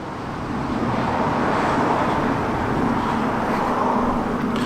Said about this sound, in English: And one or two cars are starting to leave now